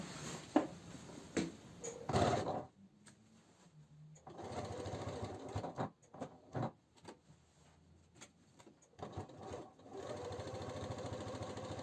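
A sewing machine stitches a seam on women's trousers with straps, running in short bursts of rapid mechanical whirring separated by brief pauses and clicks, close and moderately quiet.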